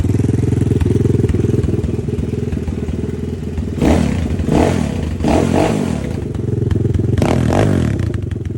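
A 2021 EGL A16 dirt bike engine runs steadily up close, a continuous low chugging idle with a few louder revving surges and clattering bursts toward the end, no talking.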